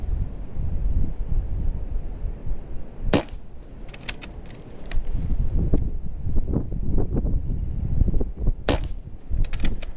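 Rifle shots fired at a target on a windy range, two sharp loud cracks several seconds apart over steady wind rumble and gusty microphone noise, with faint rustles in between.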